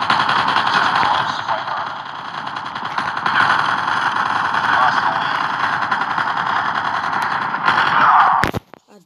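Rapid automatic gunfire from the mobile video game Call of Duty Mobile rattles loudly and almost nonstop for several seconds, then cuts off abruptly near the end.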